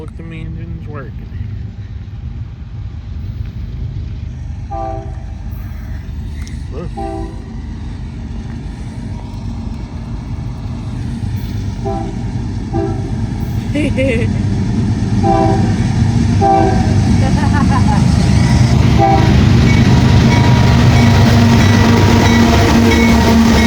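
Two freight trains, Union Pacific and BNSF, pass at once on adjacent tracks, a low rumble of engines and wagons that builds steadily louder toward the end, with a few voices talking over it.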